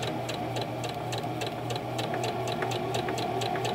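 A Singer Classic Heavy Duty sewing machine stitching fabric, giving a steady, fast, even run of mechanical ticks over a low motor hum, close and continuous.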